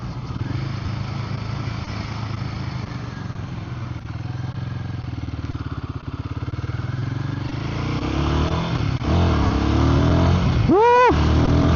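A Royal Enfield Guerrilla 450 in performance mode pulls hard, its engine drone building steadily under heavy wind rush, with a rising rev sweep near the end.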